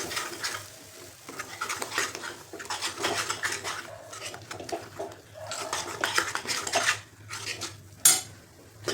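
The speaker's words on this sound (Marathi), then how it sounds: "सारखं हलवत राहायचं, चिकटलं नाही पाहिजे." A metal spoon scrapes and clinks against a pan while a fried paste of onion, coconut and roasted gram sizzles softly, with repeated rhythmic stirring strokes, close and fairly quiet, ending in a sharper clank.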